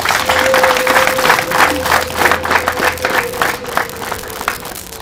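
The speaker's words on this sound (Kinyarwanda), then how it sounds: "mumere amashyi abavandimwe bacu menshi" A gathering applauds performers from Stefano's family at a celebration, steady dense clapping from a crowd filling the whole stretch, with a faint sustained tone running beneath.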